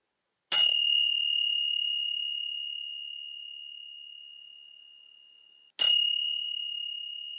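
Tingsha cymbals ring twice, each a bright, clean metallic strike with a pure, long sustain fading slowly, the second struck about five seconds after the first.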